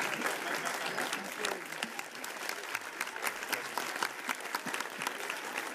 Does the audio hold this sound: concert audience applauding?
yes